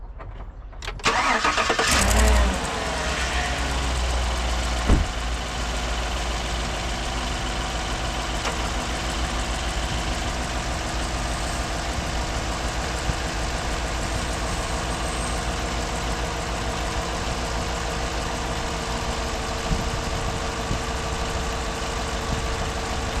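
A car engine cranks briefly, catches with a loud surge, then settles into a steady, even idle that runs on for about twenty seconds, with a single sharp knock near the start.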